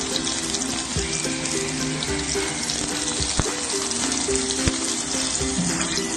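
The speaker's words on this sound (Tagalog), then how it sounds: "So, pag nangamoy na or naamoy mo na yung bawang, ilagay mo na yung sibuyas." Garlic and onion fry in a hot pan, a loud, continuous sizzle with scattered crackles and a few sharp clinks of a utensil against the pan.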